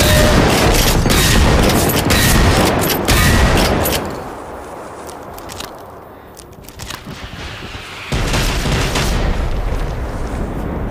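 Grenade explosions and gunfire in the video game Generation Zero, with dense repeated booms and cracks, a quieter stretch in the middle and then heavy blasts again.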